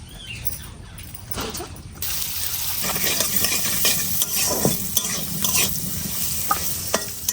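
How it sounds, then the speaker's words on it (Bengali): Carrots frying in oil, a loud crackling sizzle that swells after a quieter start, broken by repeated scraping stirs and light utensil knocks close by. "এবারে এই তেলের মধ্যেই আমি গাজরটাকে ভেজে নেব।"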